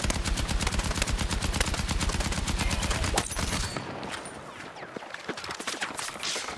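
Automatic gunfire in Battlefield 6 rattles in a rapid, steady stream for about three seconds, then breaks off, leaving scattered distant shots and game ambience.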